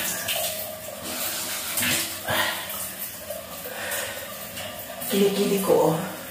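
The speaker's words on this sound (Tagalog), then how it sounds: "Eto, maligo tayo." Water splashes and pours in uneven bursts while someone bathes, with soft vocal sounds mixed in and a louder run of splashing near the end.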